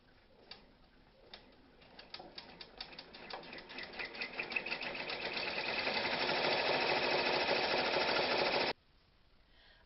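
An embroidery machine runs a placement stitch on stabilizer: rapid needle ticks start sparse and speed up into a steady mechanical whir, then stop abruptly near the end.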